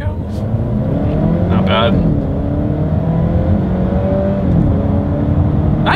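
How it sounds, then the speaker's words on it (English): A 2022 Volvo S90 luxury sedan, supercharged and turbocharged, accelerates hard from a slight rolling start, its engine drone loud and steady as it rises in pitch, heard from inside the car with brief talk over it. "let's see how quickly we can get our new 2022 S90 here up to speed"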